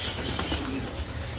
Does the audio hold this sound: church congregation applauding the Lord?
no